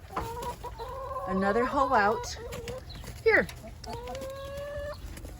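Chickens cluck and squawk close by in a suburban backyard, a few rising calls and a sharp squawk, while a person talks briefly over them.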